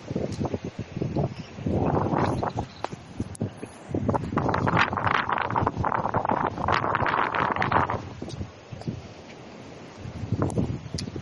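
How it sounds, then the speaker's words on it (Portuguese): Wind blowing at a coastal lookout, loud gusty bursts buffeting the microphone in waves, with quieter lulls between them and no talk. "Só que tá um vento meio chato aqui."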